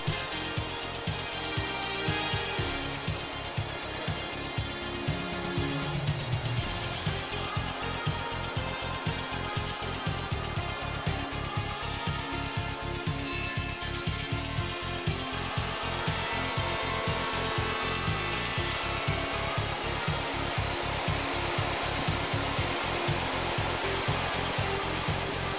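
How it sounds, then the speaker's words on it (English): Hundegger K2i automatic joinery saw processing timber with tenons, a dense continuous industrial roar of machine motors and cutting with rapid repetitive mechanical ticking throughout, loud and unbroken. "Even very short parts with tenons are automatically processed out of a longer timber."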